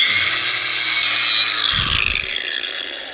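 A power tool grinds down a weld on the frame of a Razor MX650 electric dirt bike, giving a loud, continuous high whine that lowers in pitch and fades slightly toward the end.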